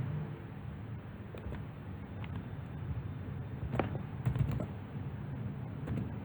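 Computer keyboard typing in a software session: sparse, soft key clicks over a steady background hiss, with no talking.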